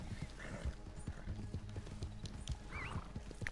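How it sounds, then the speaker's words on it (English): A horse in the video game Red Dead Online clip-clops at a steady walking rhythm, with a couple of whinnies over the hoofbeats, fairly quiet and without talk. "I'm just gonna take this guy's horse."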